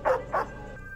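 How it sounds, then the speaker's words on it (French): A dog gives two short, loud barks close by, one right after the other, followed by a faint lingering tone and no speech. "Oh, chien!"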